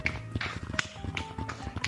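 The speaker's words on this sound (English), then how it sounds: "Tell me if you can hear my control straps." Plastic VR controller straps tapping and clacking against the controllers while a Gorilla Tag player moves, a quick uneven run of sharp, snap-like taps close to the mic, with no talking.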